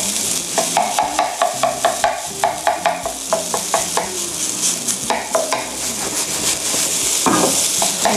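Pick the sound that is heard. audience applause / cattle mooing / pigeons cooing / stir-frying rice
stir-frying rice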